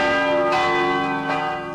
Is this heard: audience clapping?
no